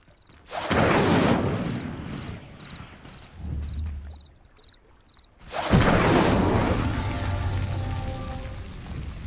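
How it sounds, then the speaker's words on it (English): Stone pyres sinking in Hogwarts Legacy give two loud rumbling, grinding whooshes separated by a quieter stretch with faint chiming tones, the second swell lingering as a low sustained rumble. "It seems the pyres sink if you don't light the others quickly enough."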